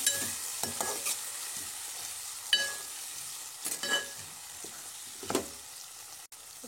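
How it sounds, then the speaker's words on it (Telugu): Tomatoes sizzle softly in a pan of hot tempering spices while a spoon stirs them. The scrapes come intermittently, close and fairly quiet, with no talk. "ఇప్పుడు ఇందులో టమాటో వేసుకోవాలి."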